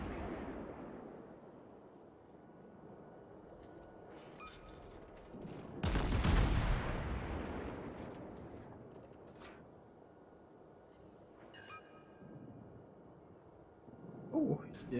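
Naval guns fire in the World of Warships game aboard the cruiser Marblehead, distant rumbling under faint background, with one heavy booming salvo midway and smaller thuds near the end.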